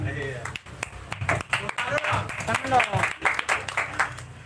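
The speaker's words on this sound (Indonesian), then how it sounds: "Oke, tepuk tangan buat pelatihnya." Scattered clapping from a group honoring an archery coach at a community archery gathering, with strong voices talking and cheering over the applause throughout.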